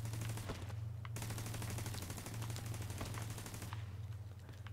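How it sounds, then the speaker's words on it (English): Automated turret in The Division 2 firing in a sustained, rapid burst of gunshots, loud and continuous throughout, with a steady low hum underneath and no talking. "My turret's doing work though"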